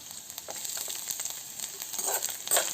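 Chopped garlic and ginger fry lightly in hot oil in a pan while broken wheat pulav is being made. The sizzle is a soft, steady crackle with a few brief louder spits and no talking.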